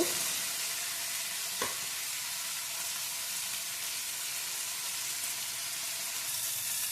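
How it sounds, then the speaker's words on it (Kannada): Ingredients for avarekalu pulao fry in a pan, giving a steady, even sizzle with faint stirring scrapes throughout. The sound is moderately quiet and has no voices over it. "ಇದು ಸ್ವಲ್ಪ ಫ್ರೈ ಆಗಬೇಕು"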